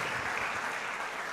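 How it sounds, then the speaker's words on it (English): Audience applauding young competitors at a national ICT clubs competition final in Uganda, a brief, dense wash of clapping throughout. "Another round of applause for these young people"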